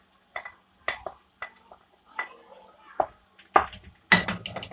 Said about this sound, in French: Vous remuez.